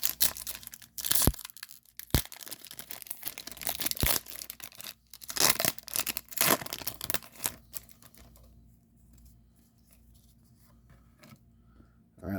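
A Star Wars Galaxy trading card pack's wrapper is torn open and crinkled up close, with sharp ripping bursts and rustling that fade to quiet.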